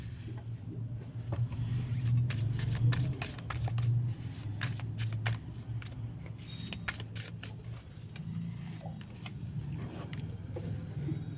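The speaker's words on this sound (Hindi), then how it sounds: "कार्ड्स को शफल कर लेते हैं और स्टार्ट करते हैं।" Tarot cards being shuffled, a soft, close run of repeated papery riffles and flicks over a low steady background hum.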